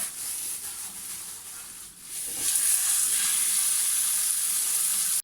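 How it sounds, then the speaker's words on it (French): Ground meat frying in olive oil in a pan: a close, steady hiss and sizzle that swells louder partway through and then holds at a strong crackling level. "Et maintenant je vais cuire la viande."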